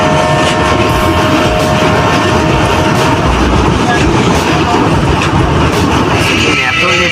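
A long-distance passenger train running late on its way toward Puri, with a continuous loud rumble and rattle of the carriages on the rails throughout, near and steady.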